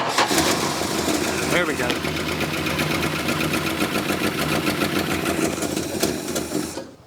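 A 1971 Plymouth Roadrunner engine, left sitting for 35 years and on a jump box, catches and runs at a rough, steady idle that fills the whole stretch, with someone talking briefly over it.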